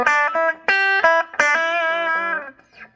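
Electric guitar played through a Pignose G60RV amp with a dry tone and no reverb, several sustained chords and notes struck in sequence, no echo, fading at the end.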